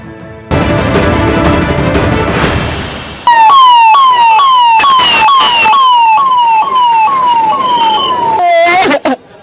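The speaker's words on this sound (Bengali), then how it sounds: "এই অ্যাম্বুলেন্সটা কোথায় যাচ্ছে?" An ambulance siren sounds loud and close, first as a steady wail and then as a rapid rising-and-falling yelp that repeats many times, with a few loud bursts of street noise before it cuts off.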